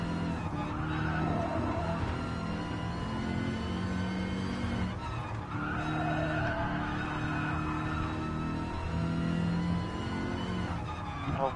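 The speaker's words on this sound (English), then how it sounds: "it's the exhaust that makes it sound that good, and the exhaust was made by the Yamaha Music, like, department" Car engine with a Yamaha-tuned exhaust roars steadily in a racing video game, a loud continuous drone rising and falling with two clear gear-change dips, no voices over it.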